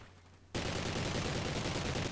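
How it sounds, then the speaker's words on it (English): A sudden burst of dense, loud gunfire erupts in Call of Duty: Ghosts, with shotgun and grenade blasts merging into a continuous rapid barrage after a brief quiet moment. "You took a nade and a fucking shotgun burst?"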